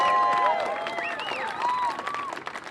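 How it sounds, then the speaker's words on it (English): Theater audience gives a round of applause at a neon sign revival event at the Avenue Theater in Portola, a dense patter of many hands with scattered whoops and a few voices over it. "So let's give Jim a huge round of applause."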